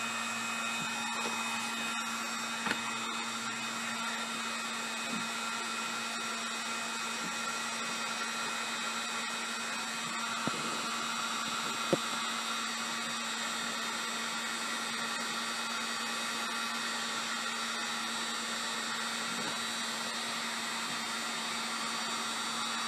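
Heat gun or hot-air tool warming PVC pipe for a homemade scythe, a steady whining blower hum with a constant tone throughout, a few faint clicks and handling taps, no talking.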